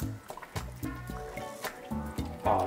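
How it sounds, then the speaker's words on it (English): Turkey chili with red beans and corn is stirred in a pot, giving soft wet squelches and gloopy plops in an uneven rhythm, close and fairly quiet. "I'm going to give that a good stir so that the ingredients are well incorporated into the chili."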